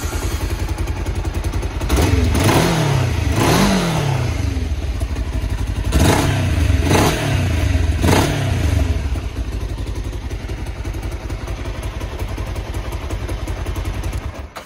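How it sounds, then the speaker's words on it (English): A Kawasaki GPZ500 EX motorcycle engine idles, then is revved in several short, rising blips in two clusters, loud and close, before settling back to a steady idle. "It's quite a quiet engine,"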